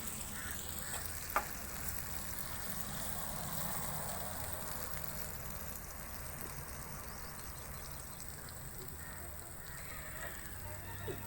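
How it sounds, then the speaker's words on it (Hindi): Keema (minced meat) frying in a pan, a faint steady sizzle and crackle throughout with one sharp tap, heard alone at low volume. "साथ में बन रहा है कीमा फ्राई भी"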